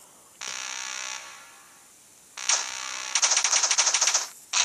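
Rapid weapon fire from the Android game Mean Spheres Attack comes in sharp, close bursts: one steady stream, a short pause, then a quick stuttering volley of clipped shots.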